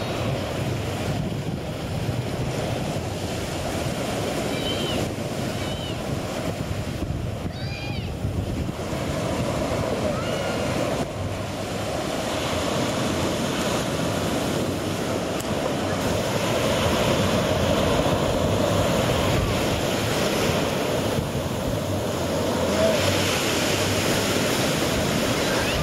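Ocean surf rolls steadily onto a Dominican Republic beach at Cabarete or Sosua, a continuous broadband wash of breaking waves with wind buffeting the microphone throughout, no voices.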